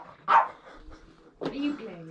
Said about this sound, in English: You're gonna get all excited and bark?